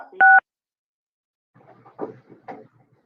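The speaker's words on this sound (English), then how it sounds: "if you could try pressing *6 on your phone" A single short, loud touch-tone beep from a phone keypad during a meeting call, followed after a pause by faint, muffled voices in the background.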